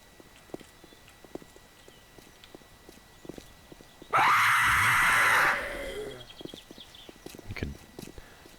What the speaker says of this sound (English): Hear that guy waking up when she screamed at me.